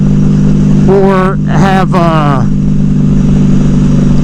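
A motorcycle engine runs with a steady, loud low drone all the way through. A person talks briefly over it, and the pitch holds fairly even rather than climbing in clear revs.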